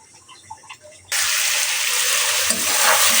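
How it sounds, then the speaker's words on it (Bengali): Boiled noodles rinsed under running tap water, a steady loud gush of water starting abruptly after a quiet moment and continuing to the end. "এই যে নুডলসটা এই যে পানিতে ধুয়ে এখন ঠান্ডা করতেছি।"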